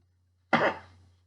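One close, sharp cough that breaks the silence and trails off quickly.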